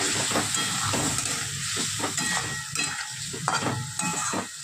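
Ground cumin and coriander stir-fried with a little water hiss and sputter steadily while a utensil scrapes the pan in quick, uneven strokes, up close and without speech.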